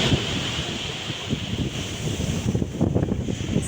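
Wind buffeting the microphone over the rolling wash of waves on Thal beach, Alibag, loud and continuous, with surges of surf toward the end.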